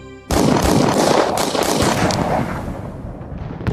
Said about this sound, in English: The silence was followed by the sound of gunfire.